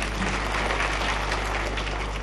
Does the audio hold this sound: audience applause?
yes